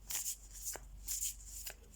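A Jean Dodal Tarot de Marseille deck is shuffled up close, with soft, papery riffling bursts repeating in a quick rhythm over a quiet room.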